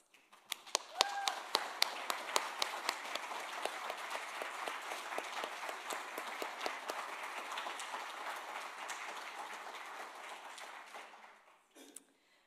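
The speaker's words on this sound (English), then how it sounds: "we can all kind of give you a round of applause" Sustained applause from a large lecture audience, dense steady clapping that runs for several seconds before tapering off near the end.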